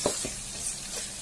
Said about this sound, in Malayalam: ചെറുതായി അരിഞ്ഞ പച്ചമുളക് ഇതിലേക്ക് ചേർത്ത് നല്ലതുപോലെ വഴറ്റിയെടുക്കണം